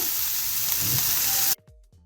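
Boiled chicken with salt and chopped red chillies sizzles loudly in a pan for shawarma filling, then the frying noise cuts off abruptly, leaving a few soft stirring scrapes.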